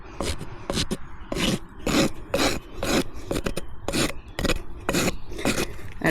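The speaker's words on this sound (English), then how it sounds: "A dull rasp will not make your job any easier." A rasp files a miniature horse's hoof in about a dozen rough, rhythmic strokes outdoors, each a loud, close scraping burst with short pauses between, and no one speaks.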